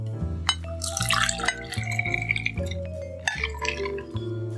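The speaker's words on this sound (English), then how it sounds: "When that's done, strain into a martini glass." A cosmopolitan is strained from a shaker into a martini glass, giving close, light splashes and drips of liquid against glass over soft background music.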